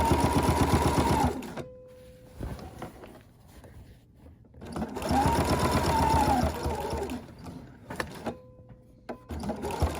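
A home sewing machine stitches binding onto a fabric quilt edge, running in two long bursts of steady motor hum with rapid needle clatter, separated by pauses with soft handling sounds.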